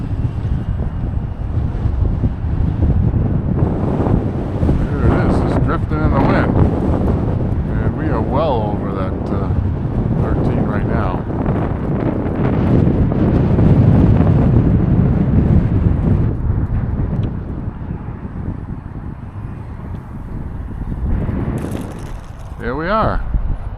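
Strong gusty wind buffets the microphone outdoors in 10–13 mph wind with higher gusts while a UMX Air Tractor RC plane lands, a loud continuous low rumble that swells and eases, with someone talking over it.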